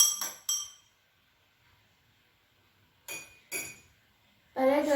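Metal spoon stirring soy sauce in a glass beaker for a chemistry lab demonstration, producing sharp clinks against the glass: two near taps, a pause, two more, then a brief rattling burst.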